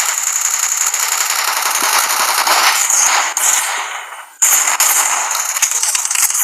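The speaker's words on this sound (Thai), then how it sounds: "โอ้ยโดนยิง" Rapid automatic gunfire from the shooter video game Free Fire, loud sustained bursts with a brief break before firing resumes, no voices over it.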